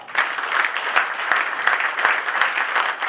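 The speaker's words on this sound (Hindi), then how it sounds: "बंधुओं जोरदार ताली" An audience at an annual general meeting claps loudly together, a dense and sustained round of applause with scattered sharper claps standing out and no speech over it.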